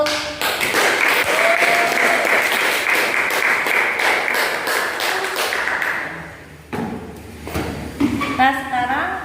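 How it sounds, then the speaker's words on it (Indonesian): Schoolchildren in a classroom applaud after a group presentation, a loud dense patter of many small hands lasting about six seconds, followed by scattered taps, shuffling and children's voices. "Ya anak-anak, kita beri aplaus untuk"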